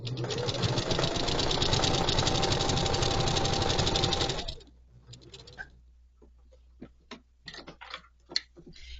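Sewing machine stitching fabric for a coffee sleeve gift, a steady, loud mechanical whir with rapid needle ticks running for about four and a half seconds before stopping, followed by quieter scattered clicks and handling noises.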